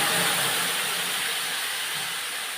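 Marinated mutton drops into hot mustard oil and sizzles with a loud, steady, close hiss that fades only slightly and carries no voices.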